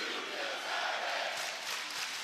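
Wrestling crowd at an AEW women's tag team event, a dense wash of many voices roaring and chanting together, steady and loud throughout with a slight swell midway.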